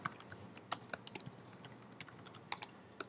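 Fast, uneven clicking of keys on a computer keyboard, close and fairly quiet, a steady patter of individual keystrokes with a few sharper taps and no talking.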